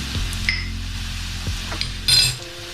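Half a spoon of poppy seeds dry-roasting in a pan for homemade Maharashtrian chivda, heard as a steady low rumble with a few metal clinks and scrapes of a utensil against the pan, and a brief louder clatter near the end.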